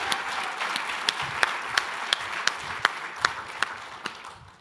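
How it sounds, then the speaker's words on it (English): At a startup demo day, an audience applauds with sustained, dense clapping, a few sharper nearby claps standing out before it gradually fades. "Can we first give the whole Access Mode team a huge round of applause?"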